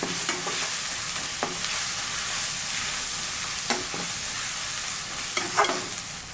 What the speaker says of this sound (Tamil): அதை நல்லா நம்ம பிணைஞ்சு விட்டுக்கலாம், ஏன்னா வதங்கணும்